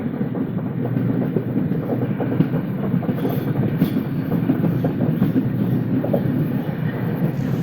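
An express train running at night on a chord line toward Aruppukottai: a continuous loud rumble with rhythmic wheel clatter, heard steadily from on board.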